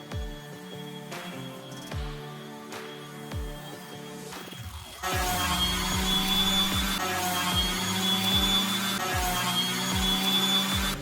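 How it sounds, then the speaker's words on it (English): A palm sander fitted with 60 and 120 grit paper works over patched wall areas; a few light knocks come first, then the motor starts about halfway and runs as a loud, steady whine with a coarse abrasive rasp. "I took my palm sander and I used 60 and then 120 grit and went over all the patches that I did"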